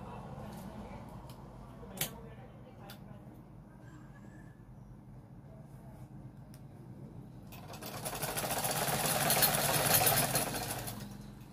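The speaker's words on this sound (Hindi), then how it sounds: "अब मैं इसको फुल चाल करके चला रहा हूँ।" A domestic sewing machine with a needle-breaking fault runs at full speed, a steady rapid mechanical whir that swells louder and brighter toward the end, preceded by a quieter idle hum and a sharp click.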